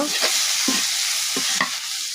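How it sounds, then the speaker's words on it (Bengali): Turmeric and salt are stirred in a hot pan over a steady loud sizzle of frying, with several soft scraping strokes of the spoon and no talking. "এবার আমি একটু এগুলো নাড়া দিয়ে নিব"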